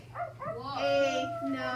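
A voice imitates a dog, giving a short yipping bark followed by a drawn-out whimpering howl, close and clear.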